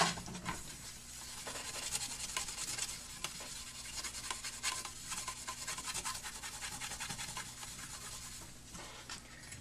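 A rag wipes WD-40 across the teeth of a circular saw blade in quick, uneven rubbing strokes, soft and close, with small scraping ticks as the cloth catches on the teeth.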